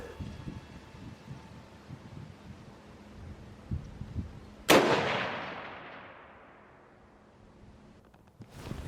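A rifle fires a single sharp, loud report during a 200-yard zeroing session, with a long echoing tail that fades over several seconds against quiet outdoor background.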